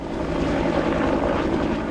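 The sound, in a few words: firefighting helicopter engine hovering over a lake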